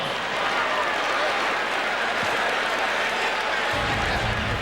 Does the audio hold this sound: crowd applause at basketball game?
yes